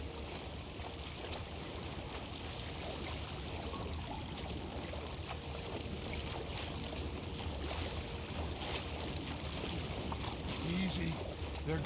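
Rowboat paddling quietly across water in Red Dead Redemption 2, a steady wash of water and wind with soft splashes, under low talk and ambient game sound.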